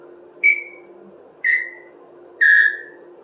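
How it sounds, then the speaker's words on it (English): Three separate blasts on a traditional samba whistle with finger holes, a blow hole and a sound hole. Each is a bright, loud, piercing tone that slides slightly as it fades, spaced about a second apart, close up with no other sound. "I have a more traditional sounding samba whistle."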